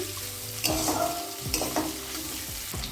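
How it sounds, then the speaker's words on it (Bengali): Chopped onions fry lightly in a pan with cloves, cardamom, sugar and pepper for a crab curry, a steady sizzle broken by several distinct stirring scrapes of a spatula, close and fairly loud, without speech. "পেঁয়াজটা আমি হালকা করে ভেজে নিলাম"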